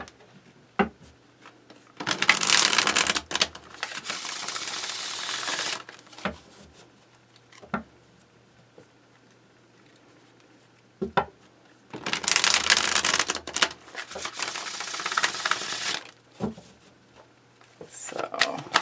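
Two bursts of brisk, papery tarot card shuffling a few seconds apart, interspersed with soft taps and handling noises.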